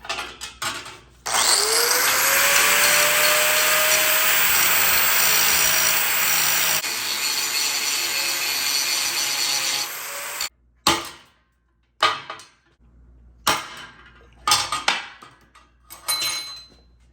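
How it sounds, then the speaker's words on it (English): Power grinder cutting off rivet heads on a motorcycle rear fender strut bracket, a long loud harsh whine with a rising spin-up tone, then several short bursts separated by near-silence. "I got to grind off the heads of these rivets on the inside of the bracket"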